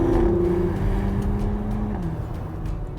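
A 2020 Porsche Macan GTS's 375-horsepower twin-turbo V6 hums steadily while driving, its engine note stepping down in pitch partway through as if shifting gears, heard from inside without talk.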